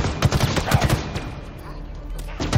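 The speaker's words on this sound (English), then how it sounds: "Fireworks." A string of firework bangs rattles off in rapid bursts at close range, then stops. Another short pop comes near the end, with people's voices around it.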